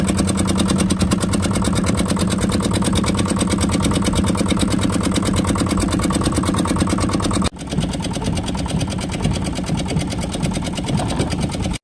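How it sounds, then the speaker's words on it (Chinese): A fishing boat's engine turns over and runs with a steady, loud, rapid mechanical chugging at dusk, then shifts to a slightly lower, rougher running rhythm after a brief break near the end. "准备把机器启动一下"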